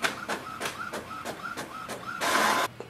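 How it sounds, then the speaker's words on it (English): Epson WorkForce WF4820 inkjet printer running a test page: a steady series of rhythmic mechanical print-head passes, each ending in a short whir, followed by a louder sustained feed noise before a sudden stop. "you can click on the print test page and it will start the printing"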